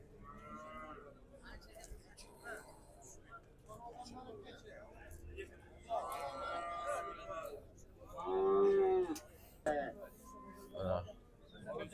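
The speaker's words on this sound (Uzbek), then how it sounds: "Buzoqchalarimiz, o'nachilarimiz," At a livestock market, calves and cows let out several loud moos, the longest lowing near the end, with people talking and murmuring in between.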